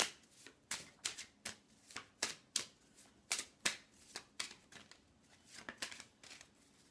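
Playing cards shuffled by hand in a quiet room, a series of crisp riffling flicks and snaps in an uneven rhythm, close and fairly soft with no talking.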